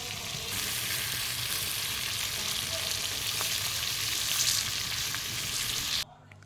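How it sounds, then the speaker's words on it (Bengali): Chicken pieces fry in oil in a pan over high heat, giving a loud, steady, close sizzle that runs unbroken before cutting off abruptly near the end. "এবার চিকেনগুলিকে ভালোভাবে ফ্রাই করে নেবে"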